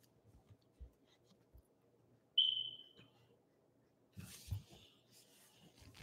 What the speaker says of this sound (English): the smoke alarm has a mind of its own